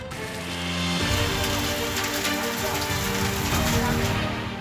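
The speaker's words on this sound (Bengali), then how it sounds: "কালো মেঘে ঢেকে আছে আকাশ কখনো জোরে কখনো আসতে তবে বৃষ্টিতে ফুল স্টপ নেই" Steady heavy rain falling under dark clouded skies, a dense continuous hiss pouring down without pause, with a faint low voice in the background.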